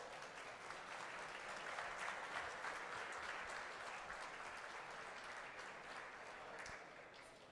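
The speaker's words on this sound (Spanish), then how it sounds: "Un aplauso." Sustained audience applause fills a hall during the swearing-in ceremony of the Panamanian Society of Engineers and Architects board, a dense, steady clatter of many hands clapping at even loudness throughout, without speech.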